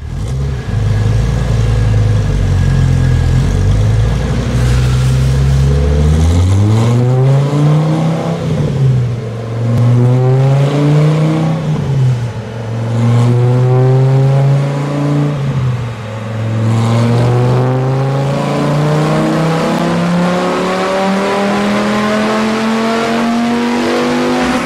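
Dodge Viper SRT10 V10 with a BBK Power Plus throttle body runs on a dyno, a loud, close engine climbing through repeated sweeping revs and gear pulls with no talk.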